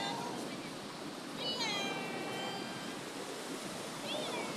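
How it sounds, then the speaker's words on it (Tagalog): Ocean surf washes steadily onto the shore as a broad, constant hiss, with a few faint high-pitched cries in the background. "Tingnan niyo yung alon."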